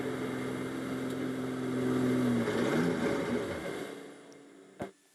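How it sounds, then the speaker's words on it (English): A slowing Ferrari GT race car with a fault during a 24-hour endurance race at Spa, its engine droning steadily and then dropping in pitch as it loses pace, with a brief sharp knock near the end. "The revs of the engine aren't matching the motion of the forward propulsion, is it?"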